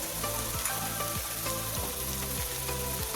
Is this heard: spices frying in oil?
yes